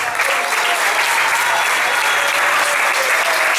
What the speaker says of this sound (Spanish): Dale un aplauso, que es bueno.